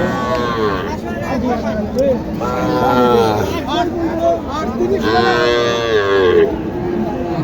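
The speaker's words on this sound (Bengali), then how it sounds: "শাহিওয়াল একটা ছোট্ট সার বাছুর দেখি" Several loud, drawn-out moos from a young Sahiwal bull calf at a cattle market in Naogaon, Bangladesh, close by, repeating over a background of people chattering.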